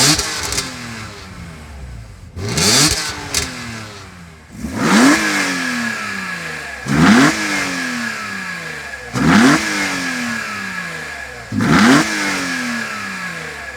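A BMW M3 CSL engine revs hard in five or six sharp, loud bursts, each climbing in pitch then dropping back to a rumbling idle between them.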